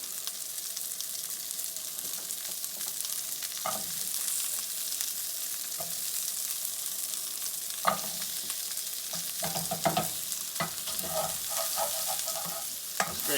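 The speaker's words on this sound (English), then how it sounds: "Now we're going to toss in our onions on medium heat here." Onions and carrots fry over medium heat in a pan, giving a steady soft sizzle throughout, with a few louder scraping and stirring clatters toward the end.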